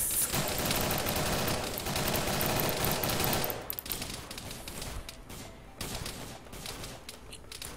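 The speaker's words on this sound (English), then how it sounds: "We need to open fire." A fire team opens up in a dense, loud volley of rapid gunfire for several seconds, then it thins to scattered, sparser shots and bursts.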